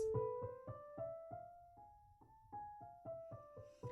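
A piano plays a slow harmonic minor scale, one note after another in a steady rhythm, each note ringing briefly before the next, with no talking.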